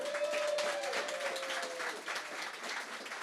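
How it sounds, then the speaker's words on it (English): Audience applause at an award ceremony, with a steady wash of clapping filling the room at moderate level and a faint sustained tone running under it for the first two seconds. "A round of applause for Intuit"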